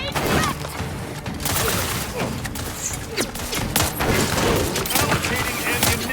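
Combat in The Outer Worlds 2 video game: loud, dense rapid gunfire and crashing impact blasts, including a grenade explosion, that pile up continuously with little pause.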